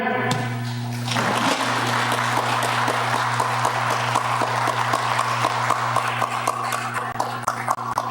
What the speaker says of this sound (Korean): 우리 성도님들 모두가 다 큰 박수 해주시면 고맙겠습니다